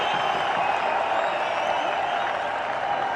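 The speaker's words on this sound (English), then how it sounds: "Crowds are jubilant." Stadium crowd at a Pakistan versus New Zealand one-day international cricket match roars and applauds after a six, a broad, steady wash of cheering that holds loud and unbroken throughout.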